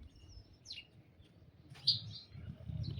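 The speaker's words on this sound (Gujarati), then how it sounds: "પક્ષી જો" Outdoors in a village in the morning, a bird gives a few short, high, clear chirps at moderate distance, separated by quiet gaps, over a low background rumble.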